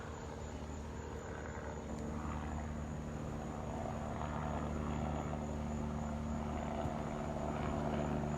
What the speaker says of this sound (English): now a plane is flying over my head and somebody's mowing their lawn